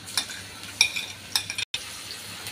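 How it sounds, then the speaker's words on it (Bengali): Ginger paste, garlic paste and onion frying in soybean oil, a low steady sizzle broken by a few sharp spoon scrapes and clinks against the pan, close and moderately quiet with no talk. "এবার আদা রসুন পেঁয়াজ একসাথে ভালো করে ভেজে নেব তেলের মধ্যে।"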